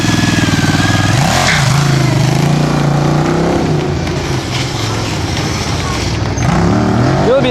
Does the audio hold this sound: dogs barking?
no